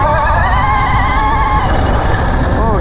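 A Sur-Ron Storm Bee electric enduro motorbike pulls away with a loud, close whine that sweeps up in pitch over tyre and ground noise, steady throughout with no talk.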